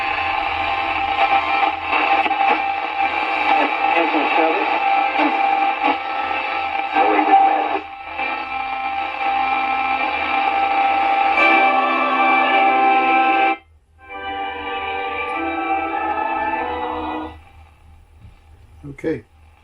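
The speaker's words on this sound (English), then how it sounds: "Now you can hear all the interference here in the shop." Radio interference crackles and buzzes from a Sears Silvertone 6217 tube radio in a repair shop, a loud harsh static with a low hum that drops out briefly and returns, fading near the end.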